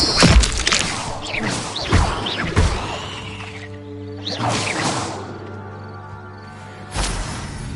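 The Incendio fire spell from Hogwarts Legacy, cast several times: sharp whooshing bursts with crackling, thudding impacts and a ringing tonal sweep, close and loud, each burst decaying into shimmering resonance.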